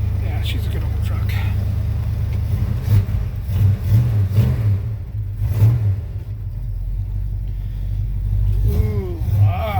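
Old Ford truck engine revving after a cold start in freezing weather, a steady loud low rumble with rising revs, someone talking over it.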